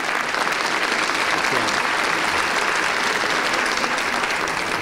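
Ceremony crowd applauding an award presentation for a Dante society gold medal, with many hands clapping in a loud, continuous, evenly textured burst that holds steady throughout.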